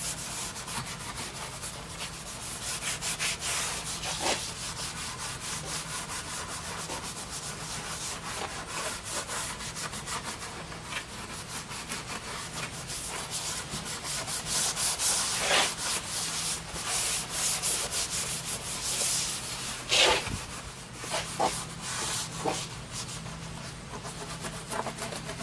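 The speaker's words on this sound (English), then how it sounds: "So we're going to put the mineral spirits on there and start scrubbing." An antique cherry wood table top is scrubbed with mineral spirits, a steady close rasping rub of brisk back-and-forth strokes that runs continuously with a few sharper scrapes along the way.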